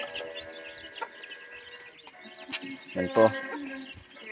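Native chickens clucking while they are being fed, a few soft clucks scattered over outdoor farm noise, with a louder burst near the end and people talking nearby.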